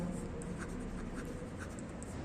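Marker or chalk strokes on a classroom board in a third-standard English lesson, soft scratchy scribbles repeating steadily under a constant room hum, with no talk.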